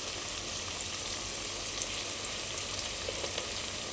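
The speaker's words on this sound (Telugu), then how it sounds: "ఆనియన్స్ బాగా ఫ్రై అయ్యాయి కదండి" Onions fry with coriander, green chillies and curry leaves in hot oil, giving a steady crackling sizzle with scattered pops, close and continuous at low volume.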